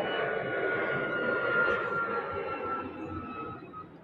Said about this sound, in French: On sera dérangé par les avions ici.